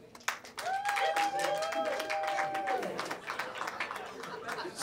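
Scattered clapping from married couples in a comedy club audience rises with a whoop and chatter, moderately distant and thinning toward the end.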